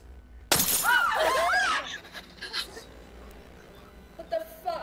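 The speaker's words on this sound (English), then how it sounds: "So number four is Emma's wine glass" A wine glass shatters loudly in a sudden crash with ringing glassy tones, lasting about a second and a half, followed by quieter room sounds and faint voices, captured behind the scenes of a 2020 horror film.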